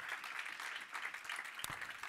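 A church congregation claps in praise, a dense, steady patter of applause heard somewhat faintly throughout, with no clear speech.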